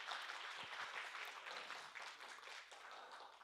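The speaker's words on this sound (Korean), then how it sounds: "박수소리가 너무 작아서 이런 대우 처음 받아봐요." Soft audience applause at a real-estate book concert in a hall; a steady, quiet wash of many hands clapping, distant and subdued, with no speech over it.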